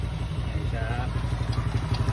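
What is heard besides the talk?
motorcycle engine idling on battery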